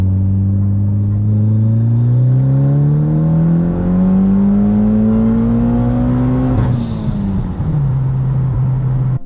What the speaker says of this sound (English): it's hauling ass, the turbo sounds good, it sounds healthy